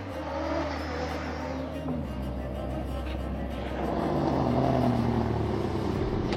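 A Dacia rally car driven by Sébastien Loeb roars steadily close by, its pitch shifting as it passes, with a rising surge of engine noise toward the end.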